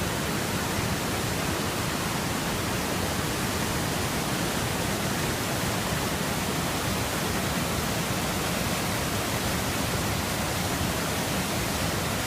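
Cascade Falls roars as a steady, loud, broadband rush of falling water close by, continuous throughout with no voices.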